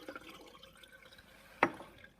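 Filtrate solution being poured away from a flask in a chemistry lab during a gravimetric nickel determination, heard as soft liquid dribbles and a single sharp splash near the end.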